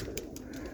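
Roller pigeons coo softly at close range, a low steady murmur broken by faint brief flutters.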